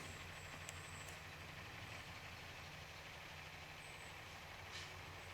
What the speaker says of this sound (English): Some truck on my driveway.